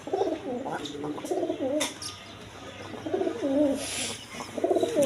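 Pigeons on a pigeon farm coo repeatedly in soft, throaty, warbling phrases, close by, with faint chirps and rustles in the background.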